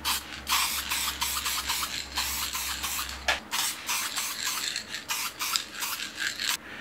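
Aerosol can of rust guard clear coat spraying onto a transformer, a steady hiss in repeated close bursts with brief pauses, a low hum underneath for the first half.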